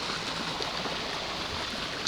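Steady outdoor water rush from a waterfall and fountain beside homes on Lakewood, a constant broadband wash with no talk.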